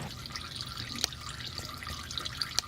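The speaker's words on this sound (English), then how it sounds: "Alright, now we let it drain." Motor oil drains from a car engine during an oil change, a continuous trickling, dripping liquid stream heard up close with a few sharper drip splashes and no talking.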